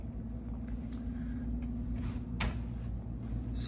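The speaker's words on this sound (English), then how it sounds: "when you pull this out, you'll be able to see the mini fridge right here." A drawer holding a mini fridge slides out in a Hyatt Place hotel room in Westminster, Colorado, giving a few soft scrapes and a brief thud over a steady low room hum.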